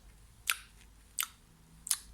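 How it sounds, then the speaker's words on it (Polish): Lip smacking while sucking a candy during a children's speech-therapy exercise: three sharp, close smacks spaced evenly about every 0.7 seconds, with quiet pauses between and no talking. "Mamy cukiereczka i mlaskamy."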